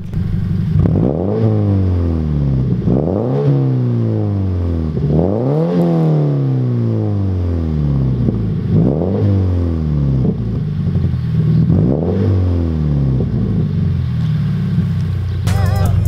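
A loud Nissan GTR engine revved hard again and again, about seven sharp surges that each climb and fall back in a steady rhythm, close and dominating.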